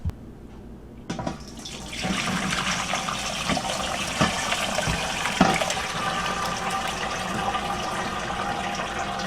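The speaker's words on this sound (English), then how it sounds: "have another pot with a strainer of some sort and strain all the seeds and little pieces and cinnamon and ginger and all of that out of it" Elderberry juice with seeds, cinnamon and ginger pours from a pot through a strainer into another pot, a close, continuous splashing gush of liquid with a few clinks of the pot along the way.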